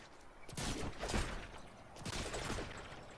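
Rapid bursts of gunfire from the video game Fortnite, two dense volleys of overlapping shots around the start and the two-second mark, loud and close.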